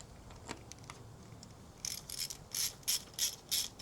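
A ratchet tightens bolts back into a KTM 390 Enduro engine during its first service, giving a run of sharp metallic clicks in quick rhythmic bursts, close up over a quiet background.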